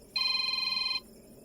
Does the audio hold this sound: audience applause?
no